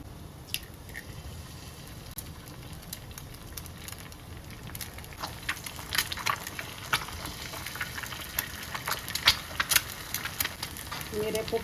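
An egg fries half-fried in a pan with a busy crackle of small pops and spits that grows denser and louder over time, heard close up with faint background noise.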